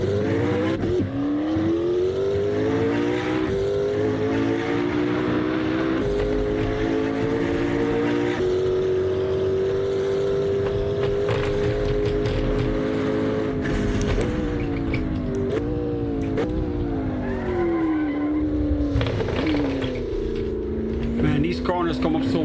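A loud turbocharged race car engine in Assetto Corsa roars continuously, pitch climbing and dipping through gear shifts, with a brief whine near the end.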